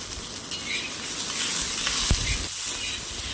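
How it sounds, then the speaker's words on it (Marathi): Garlic and green chillies fry in a pan for a spicy Maharashtrian tomato-chilli thecha, giving a steady, close, even sizzle with a brief louder crackle partway through. "आणि तसे मिरची लसूण त्याला आपण छान मऊ होईपर्यंत छान खरपूस असे भाजेपर्यंत परतून घ्यायचं आहे"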